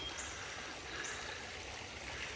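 A small country creek in West Virginia runs over quartz and conglomerate rocks, giving a soft, steady, trickling rush with no voices.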